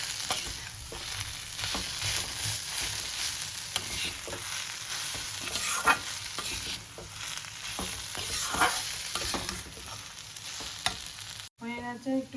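Radish and potato curry with lentil dumplings (bori) sautéing in a pan for Bengali mulor ghonto, a steady close sizzle broken by repeated stirring scrapes throughout, with no talk.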